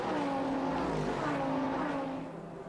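A BMW Z4 GT3 race car accelerates out of the pit lane during the Nürburgring 24-hour race, its engine a loud, continuous rising drone that eases off slightly at the end.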